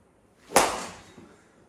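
A golf ball struck thin into a net: one sharp swishing thwack followed by a brief fading rustle, heard alone and fairly close.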